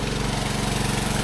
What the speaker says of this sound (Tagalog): pinandar na naman yung makina